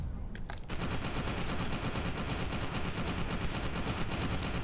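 Sustained SMG automatic fire in the shooter FEAR 2, a dense unbroken rattle of rapid shots at steady loud level after a brief quieter lead-in, with no talking over it.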